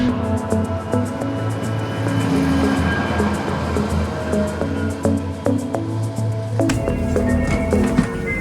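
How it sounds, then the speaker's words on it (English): Busy train station ambience with a steady low rumble of an idling train, scattered clanks and knocks, and a brief louder burst of mechanical noise near the end, with no speech. "So we've arrived at the train station."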